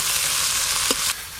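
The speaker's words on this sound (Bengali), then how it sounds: "পেঁয়াজ কুচিগুলো ভালো করে ভাজা ভাজা করে নিয়েছি" Chopped onions frying in mustard oil with whole spices, a loud, dense, close sizzle with a brief clink near the end, no voices.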